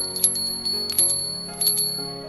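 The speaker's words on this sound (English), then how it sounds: "the bell still rings for me, as it does for all who truly believe" Bright metallic bell strikes ring out in a few separate hits, each with a long shimmering decay, clear and close with no talk over them, like a small sleigh bell shaken at the end of a Christmas story reading.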